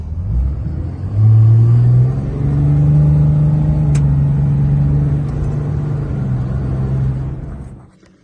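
A 5.9 Cummins diesel pickup truck revs up and accelerates, its loud low engine rumble rising and holding steady before fading away near the end.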